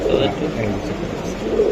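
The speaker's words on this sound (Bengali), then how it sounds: "এটা একটা কবুতর ভাই" A racing pigeon gives soft, low coos close at hand, partly under people talking nearby.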